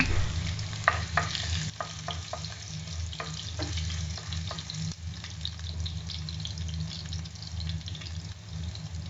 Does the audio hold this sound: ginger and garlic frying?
yes